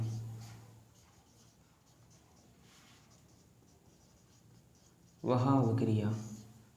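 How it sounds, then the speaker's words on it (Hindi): A definition being written out during a class 10 chemistry lesson on chemical reactions: faint, steady scratchy writing strokes for about five seconds, then a voice begins speaking. "तो इसकी सबसे पहले हम डेफिनेशन लिख लेते हैं"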